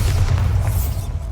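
Bombarda blasting spell from Hogwarts Legacy erupts as a deep, sustained booming rumble, loud and close, holding steady across the whole moment with a low, heavy roar.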